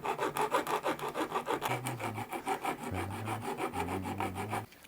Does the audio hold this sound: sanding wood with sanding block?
yes